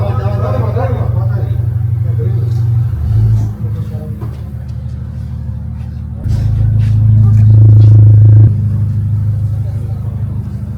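A BMW 540 idles with a steady low rumble, then its engine revs up loudly for a couple of seconds before settling back to idle, close by and continuous throughout.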